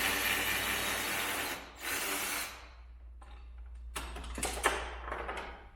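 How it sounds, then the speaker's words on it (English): A ratchet fitted with a 13mm short socket loosening a door hinge mount on an off-road vehicle, bursts of rapid clicking and rubbing with brief pauses between, close by and moderately loud. "Using a 13mm short socket on this ratchet, and we were able to reach in there and remove it"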